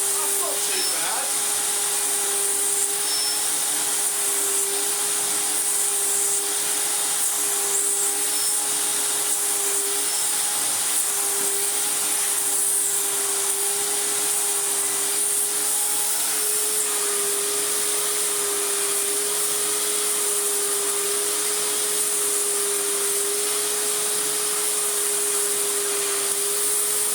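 An Electrolux 350e vacuum cleaner runs on a rug, a loud steady motor drone with a fixed tonal hum that shifts slightly in pitch partway through, with some rubbing and brief speech underneath.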